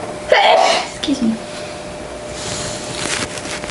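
A single sharp sneeze from an elderly woman during a quiet indoor interview, loud and close, followed by a brief softer sniff and near silence.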